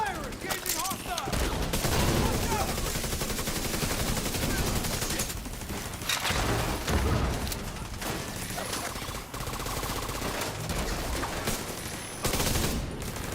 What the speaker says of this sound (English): Damn, that turret hits fucking hard